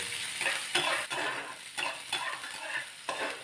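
Onions frying slowly in a pan until soft for a black pepper chicken gravy: a loud, close, continuous hiss with a few spatula scrapes and stirs. No one talks.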